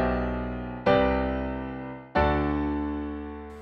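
Sustained harmonic chords in a flat seven, four, one progression with an altered bass line, two clear re-attacks each decaying slowly, played alone with no talking.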